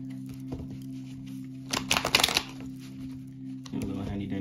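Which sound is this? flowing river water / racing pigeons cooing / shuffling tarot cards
shuffling tarot cards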